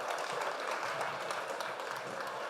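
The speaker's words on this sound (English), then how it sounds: "Give everybody a round of applause" Audience applause at a real estate agents' masterclass session in Orlando, a steady wash of many hands clapping at moderate volume with no clear voices over it.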